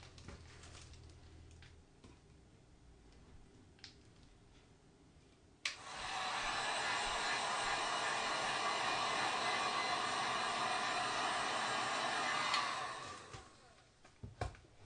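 A heat tool blowing hot air over silicone in wet paint, starting abruptly as a loud steady whoosh, running for about seven seconds, then switching off, with faint tapping and bird cooing around it.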